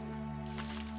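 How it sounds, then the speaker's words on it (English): Water running from a valve in the mining game Hydroneer, a steady hiss of flowing liquid over a constant low mechanical hum, brief and unbroken. "let's turn the water off down here so we don't have to listen to that noise all the time"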